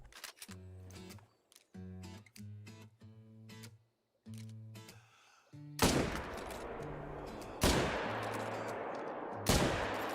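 Rifle shots while deer hunting in a video game, a few sharp loud cracks with ringing tails spaced out between stretches of tonal in-game music and hum.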